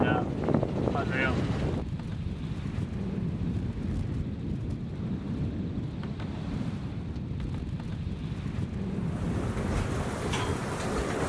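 Open ocean heard from a sailboat after weeks at sea, a constant rush of water and wind noise against the hull, with people talking briefly at the start and end.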